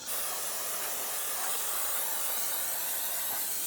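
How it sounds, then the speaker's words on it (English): A continuous hissing spray of solvent cleaner runs close by at a steady level throughout, with no talking, while cleaning a transmission speed sensor on a 2005-2007 Ford Five Hundred. "use our spray solvent"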